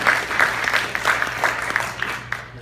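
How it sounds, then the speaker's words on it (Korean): An audience claps at a talk, a close, lively burst of applause with uneven hand claps that gradually thins out toward the end. "박수 한번 크게 한번 주겠습니다."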